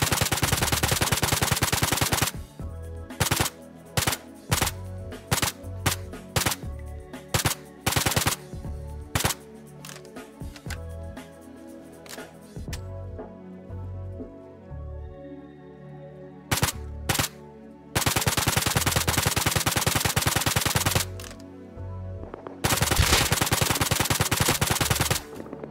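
AK rifle gunfire in Rust, loud automatic bursts that come in rapid clusters, broken by short gaps and a quieter stretch in the middle, with no talking.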